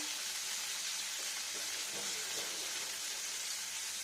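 Paneer fries in a pan with a soft, steady sizzle that stays constant and fairly faint, with occasional light stirring or shifting sounds and no talking.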